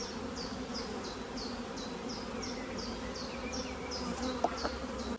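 Honey bees from a large, numerous colony buzz steadily in an opened nucleus hive with some honey stored, a dense close drone with individual bees whining past, no talking.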